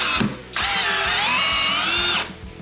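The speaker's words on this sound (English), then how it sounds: "That has no problem driving that in there." A 20V brushless drill with a number 3 Phillips bit drives a screw in one steady, loud, high whine lasting under two seconds, close up, after a brief click at the start.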